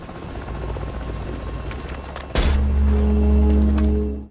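A helicopter drones with a low rhythmic rotor thump that swells suddenly louder and nearer partway through, staying heavy and close until the end.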